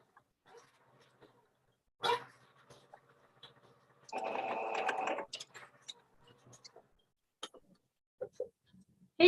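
A sewing machine stitches a dress in one short, steady whirring run of about a second, heard close in a quiet room, surrounded by scattered clicks, taps and handling noises.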